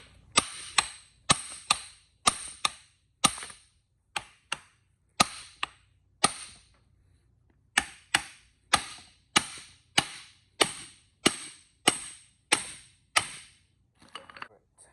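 Repeated sharp metallic hammer blows on a front steering part of a Chevy Astro 4.3 ring out at a steady, quick pace, with a brief pause midway before the striking resumes.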